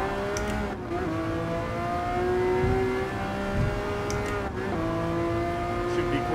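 A regular McLaren road car's engine in the game Gran Turismo Sport, a steady high whine rising through the revs with two quick gear-change drops, close and continuous with a faint voice underneath.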